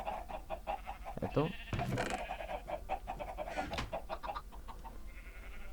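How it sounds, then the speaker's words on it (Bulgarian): Minecraft-style farm animals in a video game, with chickens clucking and other livestock calls in short bursts throughout, moderately loud, and a voice speaks briefly. "Импровизирана ферма за кокошки."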